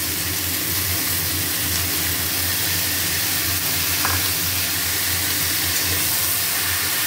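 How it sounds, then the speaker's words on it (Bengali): Vegetables fry in a pan with ginger, cumin, salt and turmeric, giving a steady, continuous sizzle that stays even and fairly loud throughout, with no talking. "সবজি ভালো করে ভেজেছি। এবারে দিচ্ছি আদা জিরে নুন হলুদ।"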